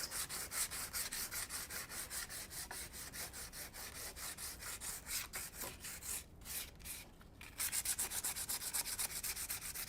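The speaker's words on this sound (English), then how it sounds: "See how quick and easy that sands to create that distressed finish." Sandpaper rubs briskly back and forth over a frame coated in Waverly chalk paint, producing a fast, steady rhythm of close, dry scratchy strokes with a few brief pauses.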